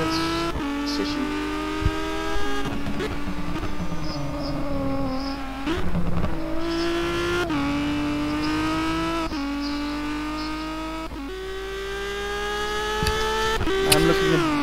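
Renault Megane race car lapping Imola in a racing video game, its engine droning steadily and rising in pitch through the gears, dipping under braking before revving back up, with faint tire squeal and a voice commenting over it.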